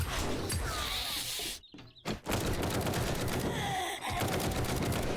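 Rapid gunfire in the zombie survival game 7 Days to Die bursts loud and dense throughout, cutting out briefly in the middle before a renewed barrage of shots.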